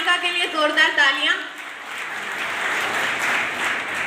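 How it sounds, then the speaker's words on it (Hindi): Applause at a talent cup closing ceremony in Maham, cheering a girl who has just recited a poem, rising as a broad steady wash after a speaker's voice fades out. "तो एक बार अनामिका के लिए जोरदार तालियां"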